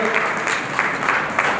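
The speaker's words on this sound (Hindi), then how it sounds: "एक बार पुनः जोरदार तालियां।" Loud, sustained applause from an audience at a Marudhara news channel honouring ceremony in Rajasthan, dense clapping running through the whole moment with small surges.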